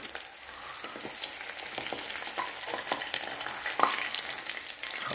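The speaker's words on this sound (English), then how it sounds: "These eggs have fried." Eggs frying in a pan at home, a steady crackling sizzle with small popping spikes throughout, moderately close and without talk.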